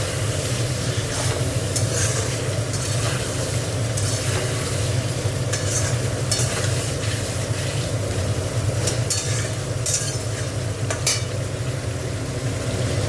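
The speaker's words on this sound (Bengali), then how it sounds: "দেখো আলুগুলো দিয়ে দিচ্ছি ঝোলে। মশলাটা অনেকক্ষণ ধরে কষা হয়েছে।" Potatoes stirred into a spiced fish curry gravy in a pan, the masala long fried: continuous close sizzling and frying hiss with scraping stirs and occasional sharper clinks, no talk.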